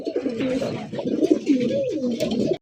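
Lakkha pigeons on a farm give soft, rolling coos close by, one warbling call running into the next without a break.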